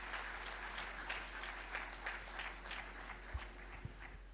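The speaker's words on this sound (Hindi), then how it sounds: "जोरदार तालियां हो जाए संजय जी मालपानी के लिए।" Audience applause at a Hindi-language memorial trust event honouring a guest speaker, a steady, fairly faint clatter of many hands clapping with no talk over it.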